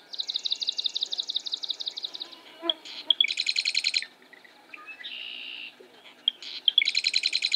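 Swamp sparrows and marsh wrens calling close by in a marsh, with bursts of rapid trilled song repeated several times, separated by softer chips and buzzy notes.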